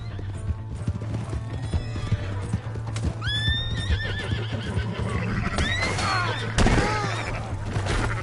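Horse hooves clip-clopping at a gallop with repeated loud neighs and whinnies in the open-world game Red Dead Redemption 2, over a steady low hum, with faint background effects.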